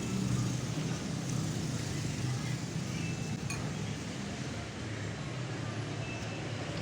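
Cars go by on a street near a noodle restaurant in Pamulang, a steady moderate traffic hum with a faint clink of dishes in the background.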